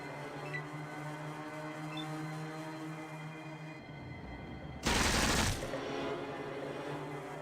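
A burst of gunfire in the video game Fallout 1, a single loud broadband blast about a second long rising sharply out of a steady low game hum, with no talk over it.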